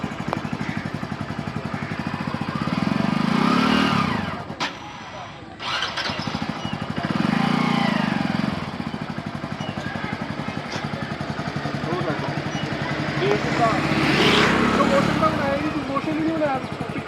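A motorcycle engine revs in uneven bursts while a learner works the half clutch, rising and falling across the stretch with louder surges near the start, middle and end; voices talk over the engine throughout.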